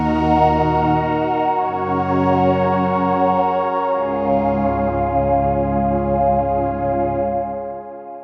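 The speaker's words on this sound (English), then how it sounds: "Now, let's listen to what it sounds like with Harmonia on." A synth layer with the Harmonia effect on plays LFO-modulated detuned oscillators panned left and right, producing a wide, chorused, shimmering chord that moves through three sustained bass notes and swells and fades, heard alone.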